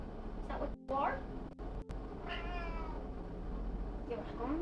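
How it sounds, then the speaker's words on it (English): A hungry cat meows repeatedly, several drawn-out, rising cries spread across the moment, close and fairly clear over a low steady hum. "Are you a cat? And is this cat hungry?"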